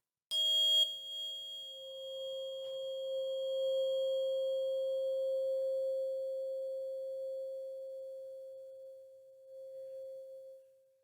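A pure 528 hertz tone rings out after a brief bright attack, a steady, clean sustained hum that holds for about ten seconds, fairly quiet and alone.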